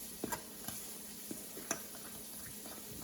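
Whole wheat pancake batter with honey being stirred in a bowl, faint scattered clicks and soft scraping taps of the utensil, quiet and close.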